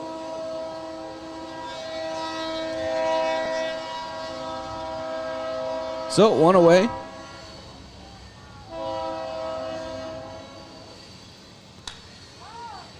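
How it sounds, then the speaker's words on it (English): A train passes near a baseball field, its long rumble swelling and fading across the scene while the horn blasts loudly in the middle; a voice speaks briefly and a faint crowd murmur sits underneath. "you can hear the train here."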